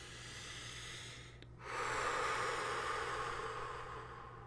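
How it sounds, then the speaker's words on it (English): A deep, slow breath of air is drawn in and let out close by as a soft, rising hiss that swells and then gradually fades over a faint low hum. "let's just start by taking a deep breath in and a deep breath out"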